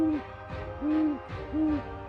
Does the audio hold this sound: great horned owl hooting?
yes